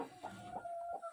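A broody hen clucks softly in a brooding box, a few low quiet clucks close by with no one speaking.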